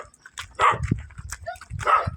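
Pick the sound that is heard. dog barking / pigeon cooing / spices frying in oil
dog barking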